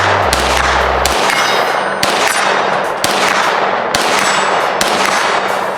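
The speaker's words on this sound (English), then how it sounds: "of course it does still fire with the folding stock there." CMMG rifle fired with its folding stock, five sharp, loud shots spaced about a second apart, each with a ringing metallic tail, close and alone with no talk.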